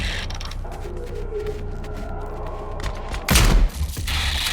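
Gunfire in the first-person shooter Industria 2, with a steady hum of game ambience and then a sudden loud close shot burst near the end.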